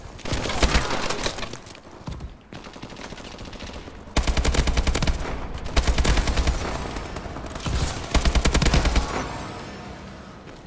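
Dense, loud automatic gunfire from Call of Duty: Advanced Warfare, rapid bursts with sharp cracks and occasional shattering impacts, continuous over the whole stretch with brief lulls.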